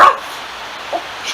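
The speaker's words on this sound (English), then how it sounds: "They were taught to yip, never yap." A puppy gives a short, high yip at the start, then a quieter whimpering note near the end, over a faint background hiss.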